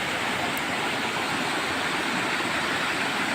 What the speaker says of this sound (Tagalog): So, kahibulungan kayo no nga ang tubig ni gawas sa tunga-tunga sa pangpang.